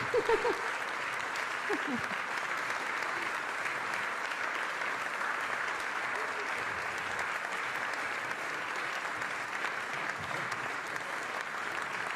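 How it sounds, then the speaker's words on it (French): Sustained audience applause after an economics lecture on the eurozone, a steady dense wash of clapping throughout, with a brief voice near the start. "Je vous remercie beaucoup de ne pas applaudir tout de suite, trop tard"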